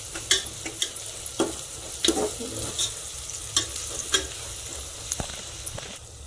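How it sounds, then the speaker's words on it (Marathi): Onions with ginger-garlic paste frying in a pan, a close steady sizzle broken by repeated spatula scrapes and taps at an uneven rhythm, with no talking. "आपण आलं लसूणची पेस्ट टाकून घेऊ त्याच्यात थोडीशी होऊ द्यायची"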